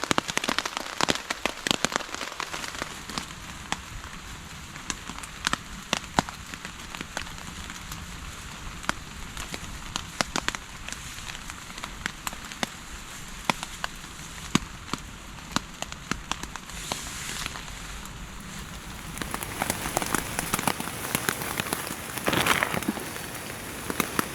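Steady rain patters on a tarp and among trees at a woodland camp, with scattered louder drips and drops, fairly close and continuous, growing a bit heavier toward the end.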